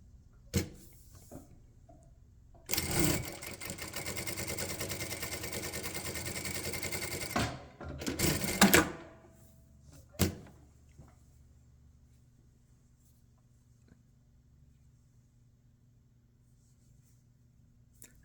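A Jack A5E-A industrial sewing machine stitches knit eyelet fabric in a steady whirring run of about five seconds, followed by a shorter burst, with a few sharp clicks and handling knocks around it in an otherwise quiet room.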